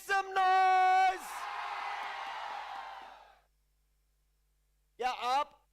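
A crowd at an esports grand finals in a large venue roars and screams for a few seconds after an amplified announcer's shout, then falls quiet before the announcer speaks again.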